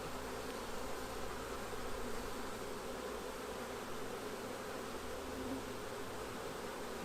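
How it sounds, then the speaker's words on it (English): A dense, steady buzzing of many honey bees at a hive during queen rearing, continuous and close, with no voices. "take the time to shake off the bees"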